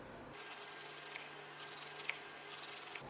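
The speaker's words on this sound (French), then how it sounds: "Je le pose bien à plat sur ma planche à découper et là je commence à trancher." A knife slices through an apple quarter laid flat on a cutting board, giving a soft, quiet rasping cut with a few faint taps as the blade meets the board.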